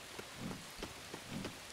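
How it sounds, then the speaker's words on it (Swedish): Steady rain falling in LEGO The Hobbit game, a constant faint hiss of drops with soft patters, no voices over it. "Nu är det blött och regnet här."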